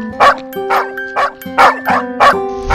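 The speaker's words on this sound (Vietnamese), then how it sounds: "Có cái gì mà sủa chứ?" A cartoon dog in an animated film barks loudly and close, six sharp barks in a steady rhythm over a soft musical backing.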